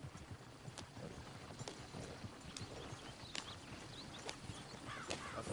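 Horse hooves clip-clopping in the Red Dead Redemption 2 video game, a steady walking rhythm of soft hoof falls over a low outdoor ambience.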